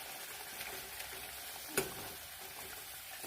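Katla fish pieces go into a boiling tomato gravy, giving a steady close sizzle and hiss with one sharp tap partway through and no voices.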